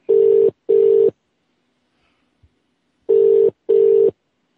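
A UK Vodafone outgoing-call ringback tone: a loud, clean double burst, a pause of about two seconds, then another double burst, with nothing else audible.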